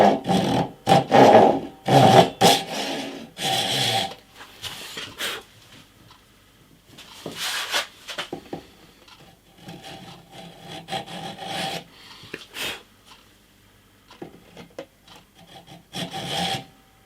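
A hand saw cuts wood during the finishing work on a classical-style guitar, giving close rasping strokes in irregular bursts with pauses between them.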